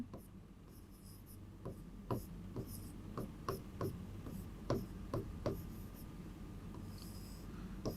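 Chalk or marker on a board during a chemistry lecture on surface chemistry, a string of sharp, distinct taps and short scratchy strokes in an irregular rhythm, close and clear over a low room hum.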